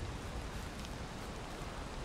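Rain falls in the video game Valheim as a soft, steady hiss of broadband noise at low level, unbroken and without distinct drops or voices.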